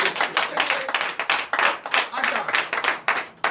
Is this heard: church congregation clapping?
yes